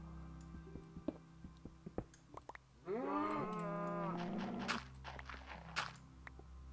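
Cows in 2D Minecraft video game let out a long, drawn-out moo, preceded and followed by sparse clicking footstep-like game sounds, faint and without talk.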